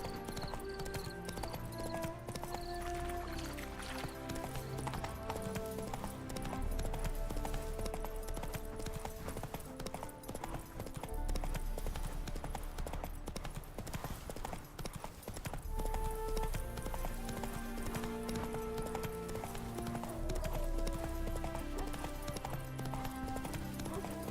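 A horse's hooves clip-clop at a steady gallop in The Witcher 3, with a horse neighing at moments and game music playing throughout.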